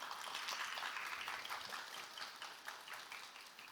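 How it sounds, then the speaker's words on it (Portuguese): Audience applause greets speakers invited onto the stage at a laboratory quality forum, a soft, fairly distant patter of many hands sustained throughout and slowly fading. "Uma salva de palmas para elas."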